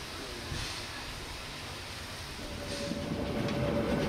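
Selketalbahn narrow-gauge train running along its line, a steady rolling rumble with a rising hum and faint rail clatter, growing louder toward the end, no voices.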